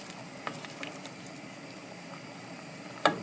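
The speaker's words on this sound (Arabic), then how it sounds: "ها هي البصاره ديالنا البنات بدات كطيب." Moroccan bissara, a split pea soup, boiling in a pot, with soft bubbling and faint popping, quiet and close, ending in a couple of sharper clinks.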